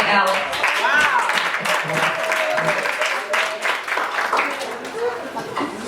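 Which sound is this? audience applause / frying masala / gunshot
audience applause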